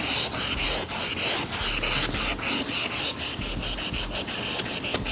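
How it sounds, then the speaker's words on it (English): A wet or dry sanding disc scrubs across a car headlight in repeated back-and-forth strokes, a close, loud rasping hiss with a rhythmic rise and fall and no voices. "put a couple spritz on my sanding disc. And make sure you get the ones that say wet or dry sanding, and just basically go across it."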